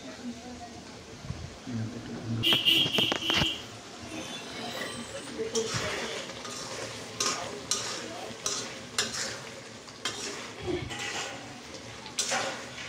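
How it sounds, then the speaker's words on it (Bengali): Pigeon meat curry with potatoes being stir-fried and simmered in a pan, a continuous sizzle under repeated scraping stir strokes and clinks, close up, with a voice talking at times. "এভাবে কিছুক্ষণ ধরে কষানো হবে।"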